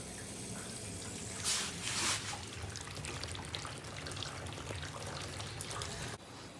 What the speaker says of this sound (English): So what I think I'm going to do now is fill it with some water.